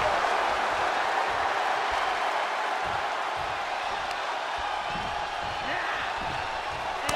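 Arena crowd at an NXT wrestling event roars and cheers steadily throughout, a dense continuous wash of voices with scattered shouts and no pauses.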